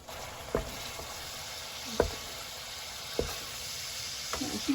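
Soboro, soy-seasoned ground meat, sizzles in a pan as its liquid reduces, a steady soft hiss broken by a few sharp stirring clicks at intervals, quiet and close.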